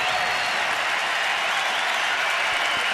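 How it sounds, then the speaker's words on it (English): A baseball stadium crowd rises to its feet at a pennant-race game, a dense, sustained roar of cheering and applause from many people. "Crowd jumping to its feet here."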